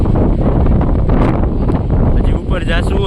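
Strong seaside wind at Diu buffeting the microphone, a loud continuous roaring rumble with gusts, while someone talks over it.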